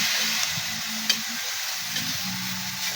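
Chicken gizzards stirred while cooking in a pan, a steady bright sizzle with soft scraping and a few light clinks of the utensil, close and alone.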